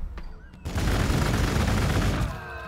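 Sustained, loud burst of gunfire from the Warhammer 40k Gladius strategy game, with Adepta Sororitas troops firing on Tyranids: a dense, continuous fusillade that rolls on for over two seconds after a brief quieter lead-in.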